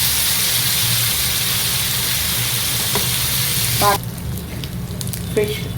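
Chettinad-style fish fries in a pan with a loud, constant sizzle that suddenly drops to a quieter crackle partway through. A few clinks and scrapes are heard near the end.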